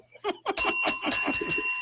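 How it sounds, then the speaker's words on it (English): A bell rung on a wrestling podcast sounds clear and sustained after a few brief spoken syllables, its ringing tone holding steady as voices keep talking over it. "Ring that bell."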